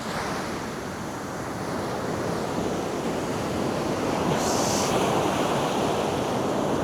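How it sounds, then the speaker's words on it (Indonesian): Large ocean waves surge at Sendiki beach in South Malang, a deep, continuous roar of surf that grows louder as a wave breaks, with wind buffeting the microphone throughout. "Seperti ini guys, ombaknya sangat-sangat besar."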